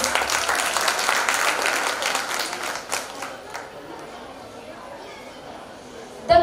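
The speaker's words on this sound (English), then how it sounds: "Give them a loud round of applause" Loud audience applause at a school annual exhibition, a dense crowd clapping strongly for a few seconds before thinning out and fading into quieter room murmur.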